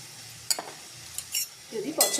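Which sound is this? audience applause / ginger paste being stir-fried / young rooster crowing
ginger paste being stir-fried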